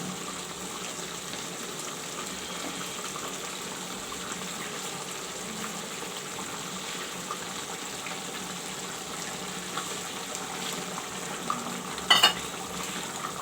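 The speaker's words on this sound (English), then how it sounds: "You can see the chicken is still frying." Chicken and potato pieces frying in oil with garlic and ginger paste, a steady soft sizzle that runs without break, faint and even, with a brief clatter near the end.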